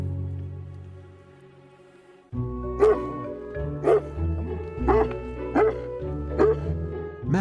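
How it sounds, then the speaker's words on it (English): Working farm dogs bark repeatedly near the woods, a series of loud, close barks in an uneven rhythm after a calmer opening, with voices in the background. "Max's place, he's showing Smudge and Squeak the proper way to bark when they see a predator."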